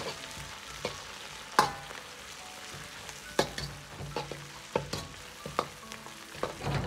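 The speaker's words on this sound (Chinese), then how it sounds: "炒出颜色，炒出香味。" Oyster mushrooms with spicy chili sauce are stir-fried in a wok, giving a soft sizzle with sharp spatula scrapes and clacks at irregular intervals.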